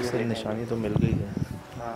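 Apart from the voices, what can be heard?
No distinct noise like a dog, phone or traffic.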